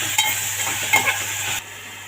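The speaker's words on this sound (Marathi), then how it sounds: "मी टोमॅटो टाकून घेते आता याच्यामध्ये, टोमॅटो परतून घेते" Tomatoes sauté in a hot pan with a brief burst of sizzling and a couple of spatula scrapes, close and fairly loud, cutting off abruptly near the end.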